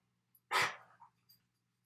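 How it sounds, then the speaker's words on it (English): A dog gives a short bark or yelp indoors, a single loud burst followed by a softer whine-like trailing sound, with faint background hum. "My dog's making all kinds of noises right now."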